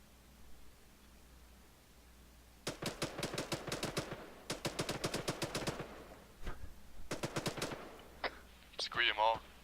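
ArmA 3 gunfire rattling in quick automatic bursts, several clusters of sharp shots at mid distance with brief pauses between, over a soft hiss, ending in a few louder closer reports.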